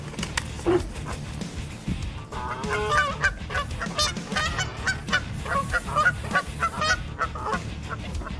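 Geese honk repeatedly in harsh, overlapping calls amid a noisy outdoor scuffle, loud and close with continuous background commotion.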